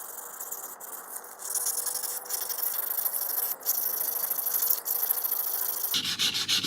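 Close, steady rubbing hiss of a fine grit polishing pad worked over a Steinberger guitar finish, broken by short pauses and a brief change in stroke near the end, with no talk.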